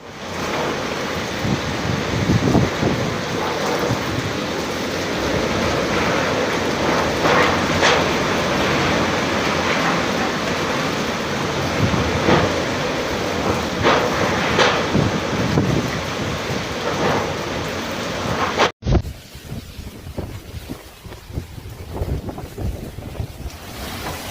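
Super Typhoon Uwan storm in the Philippines: a loud, continuous roar of wind and driving rain, buffeting the microphone, easing to a lower, gusty rush near the end.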